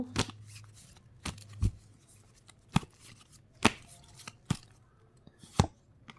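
Tarot cards are shuffled by hand in a series of sharp, crisp riffles and snaps at irregular intervals, close and moderately loud against a quiet room.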